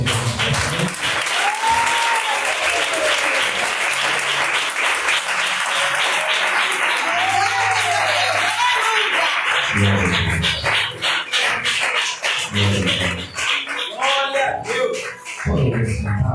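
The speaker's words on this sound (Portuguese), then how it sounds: "Você pode aplaudir o Senhor." A church congregation applauds, steady hand-clapping throughout with voices and sung tones rising over it, close and full, the clapping thinning near the end.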